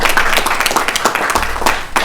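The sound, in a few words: applause for graduates at virtual graduation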